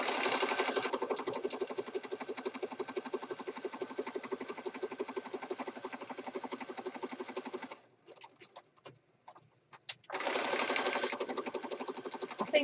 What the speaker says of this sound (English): I think this will look better with the stitching on there.